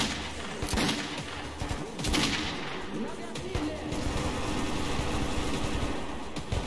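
Bursts of video game gunfire in Metro 2033 crack repeatedly at a moderate distance, mixed with rumbling booms and a steady background roar.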